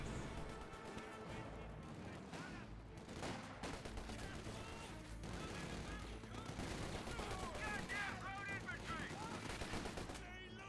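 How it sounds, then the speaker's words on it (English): MG42 machine-gun bursts rattle through a Company of Heroes 2 battle, dense and continuous amid explosions and other gunfire, with a commentator's voice talking over the combat throughout. "MG42 will suppress the captain."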